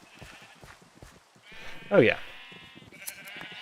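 Sheep bleating in Minecraft 1.18.1, one loud clear bleat midway and a fainter one later, close by, with someone talking over the game sounds.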